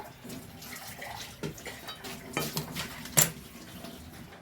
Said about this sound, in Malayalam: ഇതൊന്ന് തിളച്ചാൽ മതി കേട്ടോ ഒന്നത് തിളയ്ക്കട്ടെ